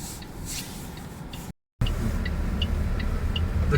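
A BYD Qin hybrid car runs on a test drive, with a steady low rumble and road noise and faint ticks above. A short silent gap cuts in before the rumble returns louder.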